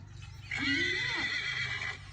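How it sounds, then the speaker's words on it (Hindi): A horse gives one clear neigh, a rising, quavering whinny lasting over a second, heard fairly close over a low background hum, with no talking. "घोड़े का साउंड सुनकर"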